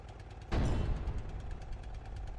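A tank engine labours in the tank-building game Sprocket, a steady low rumble that swells into a loud, rough roar about halfway in and then keeps grinding on without a break.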